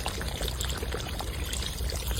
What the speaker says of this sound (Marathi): चिकन शिजण्यासाठी आपण इथं पाणी घालून घेऊ।